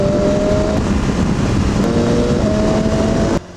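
A 2018 BMW S1000XR motorcycle engine pulls hard under acceleration, a loud steady roar with rising tones and a brief shift gap, dropping off abruptly at the end.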